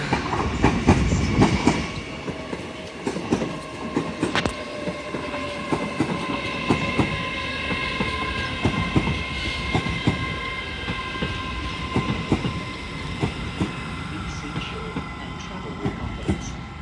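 LNER Class 801 trains passing through Doncaster station on the East Coast Main Line: a loud continuous rumble with clickety-clack wheel beats and squealing, steady across the whole stretch.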